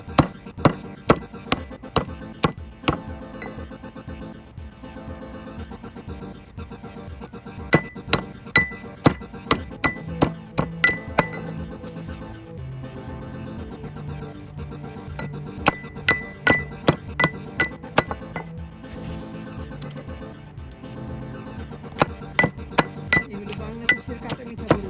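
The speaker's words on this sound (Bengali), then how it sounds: "বড়ইগুলো আগে দিয়ে নিচ্ছি, বড়ইগুলো ছেঁচে নিব।" Raw sweet-sour Bangladeshi jujubes (boroi) being pounded in a crusher, giving rapid, loud repeated sharp knocks in uneven bursts throughout; no voices.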